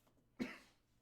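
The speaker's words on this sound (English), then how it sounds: "Try not to cough up a storm." A single short cough, one abrupt burst that fades within half a second, close but fairly quiet against a still background.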